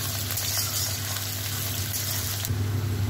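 Onions sizzle and fry steadily in a pan while being browned for a methi chicken curry, a continuous close crackle with faint stirring and a slight rise in intensity near the end.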